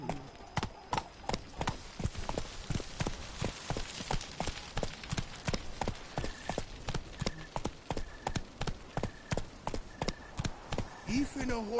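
Hooves of a horse clip-clop at a steady gallop in The Witcher 3, a rapid even beat running throughout and close up, with a voice speaking over the hoofbeats at moments.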